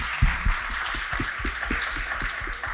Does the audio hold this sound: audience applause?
yes